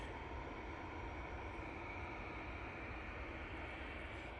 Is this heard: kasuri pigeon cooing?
no